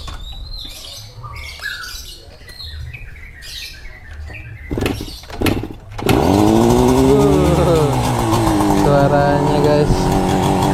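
Yamaha two-stroke 125 twin on standard exhaust and original air filter, started cold, catching at about six seconds into a loud, raspy, buzzing idle with rising blips, after earlier faint birds and outdoor noise.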